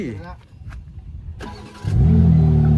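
A BMW M3 Competition engine cranks and catches near the end, settling into a loud, low, steady idle rumble after people talk in the car.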